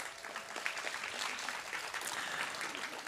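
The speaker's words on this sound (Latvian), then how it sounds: "Aplausi studijā," A television studio audience on a Latvian youth politics programme breaks into brief, steady applause, a full, even patter of many hands.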